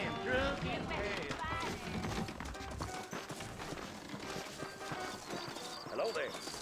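Saddled horses trot with steady clip-clop hoofbeats in the Red Dead Redemption game world of New Austin, a rhythmic clatter heard close under characters talking, with a brief whinny near the end.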